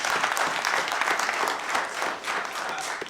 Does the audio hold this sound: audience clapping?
yes